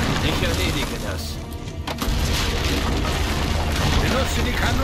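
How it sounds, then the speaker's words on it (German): Deep booming cannon fire in the Assassin's Creed Brotherhood video game during an assault on a walled town, heavy thuds and crashes over a dense battle din, with no clear talk. "Benutze die Kanonen über dem Wall."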